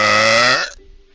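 A single loud, drawn-out human burp with a strong tonal buzz that cuts off abruptly and leaves a faint quiet tail.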